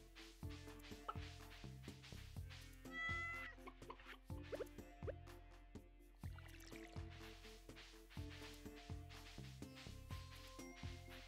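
A cat meows in the farming game Stardew Valley Expanded, a few short cries over the game's steady looping music and soft plopping effects, with no talking.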